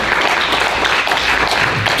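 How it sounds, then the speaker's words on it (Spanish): A church congregation at a Bible study service in Palmdale breaks into steady, dense applause, a close, loud wash of clapping that fills the whole moment without any talking. "¿Alguien le puede dar un aplauso a Dios por eso?"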